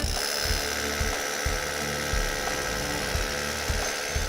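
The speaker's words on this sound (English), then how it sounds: "This is a carbide tip drill on our hammer drill, and all we're going to do is go straight up." Loud, continuous grinding drone of a hammer drill with a carbide-tipped bit boring straight up into masonry for a rebar hole, with a regular pulsing beat throughout.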